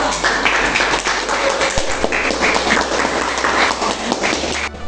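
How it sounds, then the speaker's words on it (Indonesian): A classroom audience applauds for a student group after its presentation, with steady, dense clapping that fills the room for about five seconds before tapering off at the end. "berikan aplaus untuk kelompok 2"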